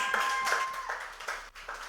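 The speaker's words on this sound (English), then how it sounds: "Can we please give a huge round of applause?" Applause from a keynote audience, a steady patter of many hands clapping at moderate volume, with whistle-like tones briefly riding over it.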